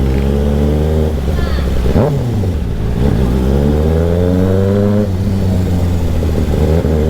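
Motorcycle engine revving steadily and loud throughout a short ride after a typhoon, its pitch rising and falling with throttle changes, close and continuous.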